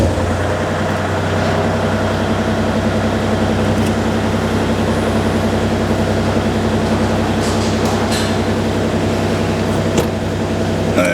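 A heavy machine fitted with an H&H quick attach system runs its engine steadily nearby, a loud constant droning hum with a low rumble and a few faint clanks.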